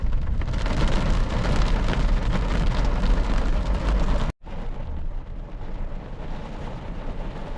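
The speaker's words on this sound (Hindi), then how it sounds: "बारिश थोड़ी और तेज़ हो गई है।" Steady heavy rain pours onto a narrow village street, a dense continuous hiss and patter that cuts out for an instant and then resumes slightly softer, with no voices.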